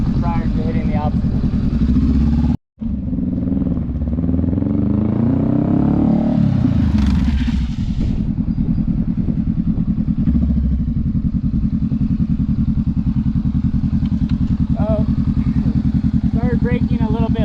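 A motorcycle accelerates toward an obstacle and brakes, its engine loud and near, rising in pitch through the gears, easing off and then idling, with wind noise throughout and a rider speaking briefly over it near the end.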